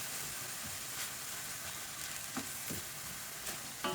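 Onion fries in a pan with a steady, fairly quiet sizzling hiss, punctuated by a few faint stirring taps, close up and without speech.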